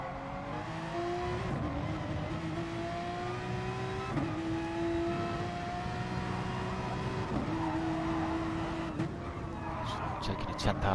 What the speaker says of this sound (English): That's what MG Jason can see, that big red Porsche slowly closing in.